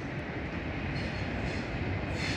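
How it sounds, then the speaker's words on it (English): A light engine locomotive movement rumbles past close by in Marrickville, Sydney, a continuous heavy rolling noise with a faint metallic squeal in the upper range. "Here we have D264, the light engine movement train heading towards Putney"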